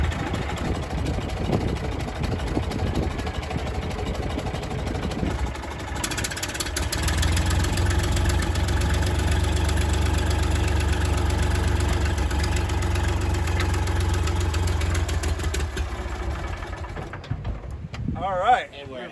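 A Massey Ferguson tractor engine idles with a steady, loud, low rumble close by, then sputters and cuts out near the end as it runs out of fuel.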